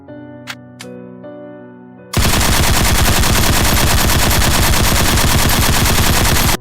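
Gunfire sound effect: after a few sharp clicks and metallic taps, a loud, rapid, continuous burst of automatic shots rattles on for over four seconds and then cuts off.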